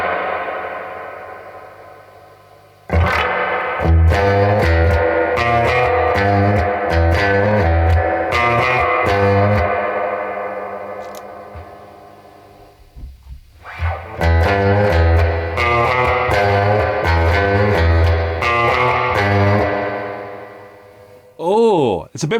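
An electric guitar played through a CTC Mirage reverb pedal rings out in chiming, echoing phrases with long shimmering tails, pausing briefly midway before a second washed-out passage and a final swelling, pitch-bending swirl.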